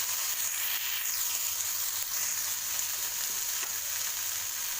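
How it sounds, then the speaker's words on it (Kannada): Potato and fenugreek fried rice sizzling steadily in a pan while being stirred, a constant bright frying hiss with faint scraping strokes throughout, no voices. "ವೈಟ್ ಸಾಲ್ಟ್ ಹಾಕೋ ನಂತರ ಮತ್ತೆ ಫ್ರೈ ಮಾಡಬೇಕು. ಚೆನ್ನಾಗಿ ಮಿಕ್ಸ್ ಮಾಡಬೇಕು."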